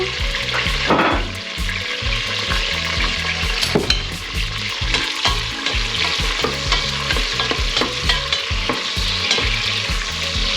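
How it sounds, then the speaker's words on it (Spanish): Noodles frying and being stirred in a cazuela: a loud, steady sizzle with repeated scraping strokes of a utensil through the pan, continuous and close, with no talking. "Dejamos que se vayan haciendo durante 3 o 4 minutos, vamos removiendo."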